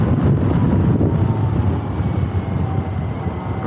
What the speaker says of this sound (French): ça chante comme une MT-09. C'est le même moteur